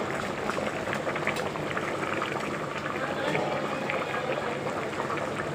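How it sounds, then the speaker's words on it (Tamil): Kuzhambu curry boiling in a covered pot, a dense continuous bubbling and gurgling, close and steady for the whole stretch. "நல்லா கொதித்து எண்ணெய் மேலே திரிஞ்சு வந்துச்சு பாருங்கள்"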